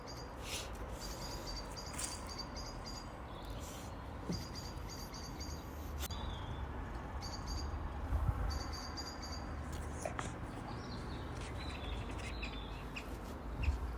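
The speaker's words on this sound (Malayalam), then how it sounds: "4:30 തൊട്ടേ കിളികളുടെ ചിലപ്പൊക്കെ കേൾക്കാം." Faint bird chirps and tweets repeat in short bursts over a steady outdoor hiss, with a distant rooster-like call now and then; no one speaks.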